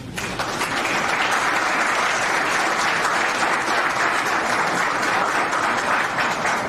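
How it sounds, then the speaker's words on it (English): Sustained applause from a large audience at a senior athletics awards dinner, dense steady clapping filling the room for several seconds at an even level, honoring the coaches. "Take a clap for your coaches."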